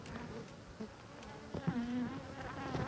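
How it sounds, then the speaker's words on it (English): Honeybees buzz around the entrance of a newly populated top bar hive, a continuous droning swarm with individual bees whining past nearby, no voices. "bees are already moving in and out, trying to move around to get used to the new hive"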